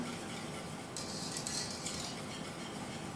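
A spoon stirs a banana, passion fruit and mango purée with sugar and pectin in a saucepan, steady scraping and swishing with light metallic clinks against the pan's sides, close and continuous without talk.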